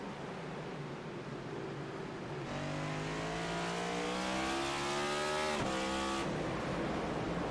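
Race cars at Sonoma Raceway accelerate hard after a restart, engines rising in pitch through the gears as they pass, a loud steady roar with a sharp drop as one car goes by.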